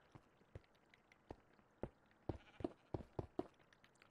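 Sheep in the video game Minecraft bleat in a quick series of short, sharp calls, sparse at first and then bunching closer together, faint and alone without talk.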